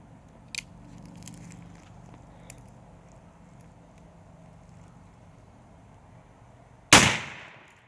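A single loud, sharp gunshot from a .44 black powder revolver fired outdoors, booming abruptly near the end after a stretch of quiet, with a short decaying tail.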